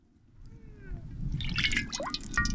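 Cooking oil poured into a pan for a North Karnataka chilli bajji dish, a short soft liquid pour and drip that grows slightly louder over a couple of seconds, with faint background noise.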